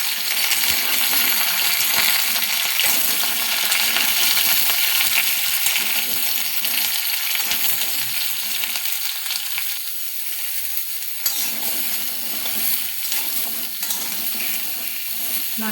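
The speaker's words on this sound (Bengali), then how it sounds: "ভালোভাবে নেড়ে নেব।" A spoon stirs mango chutney with cherry tomatoes in a hot pan, a continuous close sizzle with scraping and small clinks running steadily throughout, no talking.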